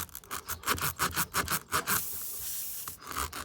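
Rhythmic back-and-forth rasping as a rasp tool reams out a car tyre puncture hole, about a dozen quick strokes, then a steadier scraping hiss and a few more strokes near the end.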